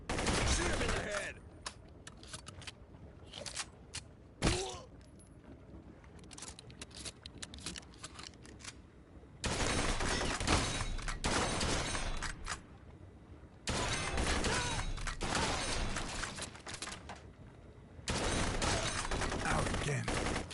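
Repeated bursts of video game gunfire from a PS4 shooter, rapid automatic fire in clustered volleys with short pauses between, loud and close, a voice faintly talking underneath.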